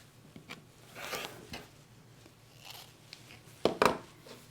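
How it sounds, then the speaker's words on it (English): Fabric is trimmed along a quilting ruler on a cutting surface, making quiet, scattered scraping and slicing sounds. A louder, sharper cut comes near the end. "line it up on one of the lines, and I like to line up on that center line, and then I'm going to trim up that edge"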